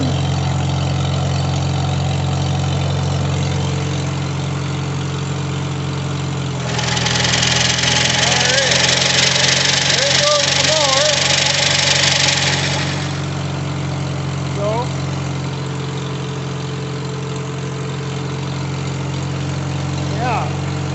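An IH 120 lawn mower engine idles steadily and close by, rising into a louder, harsher run for several seconds as the clutch is engaged, then settling back to a steady idle.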